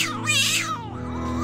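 A cat gives one drawn-out, loud meow close by, rising and then falling, with no talk over it.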